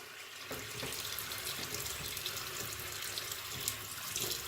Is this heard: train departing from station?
no